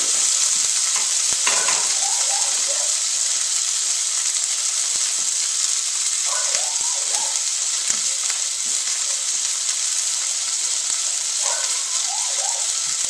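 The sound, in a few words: burger patty sizzling while cooking in a pan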